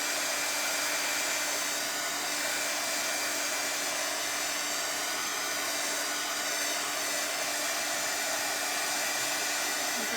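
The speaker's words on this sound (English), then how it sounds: "I'm gonna let this dry just a second or I'll hit it with the dryer" A hair dryer runs steadily and close for about ten seconds, blowing on wet paint on a craft door hanger, a constant broadband whoosh with a faint motor whine and no talking.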